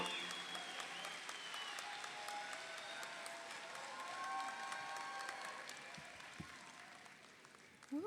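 Sustained audience applause at a high school graduation ceremony, a steady dense patter of many hands that holds level for several seconds before tapering slightly, with a few light cheers mixed in.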